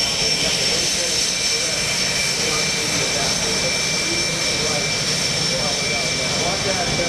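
An F/A-18 Hornet jet flies a fleet air power demonstration at the 2017 NAS Oceana Airshow. Its engines give a loud, steady roar with a hissing whine that fills the whole stretch without letup.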